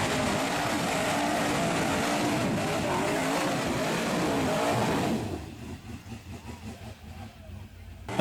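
An off-road buggy on 44-inch Interco TSL tires roars with a sustained loud engine note, then drops to a lower pulsing idle-like rumble toward the end, with a voice speaking in the background.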